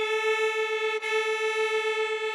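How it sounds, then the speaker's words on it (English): Two sustained unison notes held together, one slightly detuned, producing a steady tone with a slow wavering beat pulsing within it, clear and alone without speech. "And now I can hear they're fighting. They're clashing."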